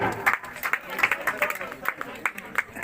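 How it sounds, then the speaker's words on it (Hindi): Applause from an audience at a public welcome ceremony in Udaipurwati comes as quick, uneven rounds of claps, close and moderately loud, with talk mixed in. "जोरदार तालियां।"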